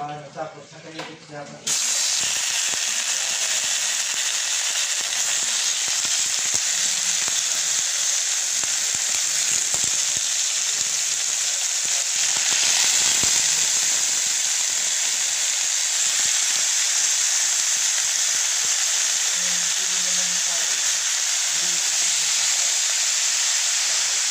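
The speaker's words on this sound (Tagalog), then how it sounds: "So, prito na natin." Food frying in oil in a home kitchen, a steady loud sizzle and hiss that starts abruptly after a short moment and continues evenly for over twenty seconds, with faint clatter underneath.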